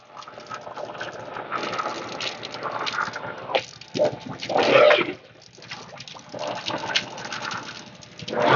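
A well water pump sucking air: a continuous gurgling, sputtering rush of water with uneven surges and dips, loud and close.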